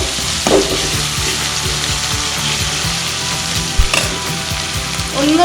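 Crushed ginger and garlic fry in hot oil with a loud, continuous sizzle. Occasional scraping stir strokes break through, and no one speaks.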